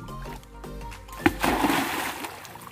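An animal dives into forest water to search, making a sudden loud splash followed by a second or so of sloshing and churning water after a quieter stretch.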